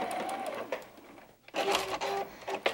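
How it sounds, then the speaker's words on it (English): A sewing machine stitches quilting fabric for a diamond point pattern, sewing a short run in a quick whirring burst, pausing briefly, then whirring again in a back stitch at the seam's start. "So I do a little back stitch when I start sewing there."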